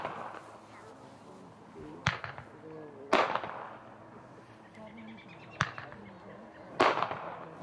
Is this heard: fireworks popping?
yes